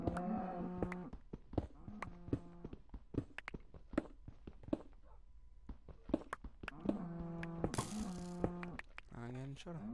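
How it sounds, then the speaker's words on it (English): Cows moo repeatedly in Minecraft, loud harmonic lowing calls recurring throughout over game footsteps and effects, with a voice talking intermittently. "So with those cows, man, they are really loud."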